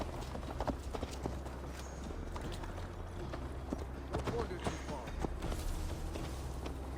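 Horse hooves clop steadily at a riding pace in Assassin's Creed Valhalla, with rhythmic thuds and jingling tack over a low rumble, while voices talk over it.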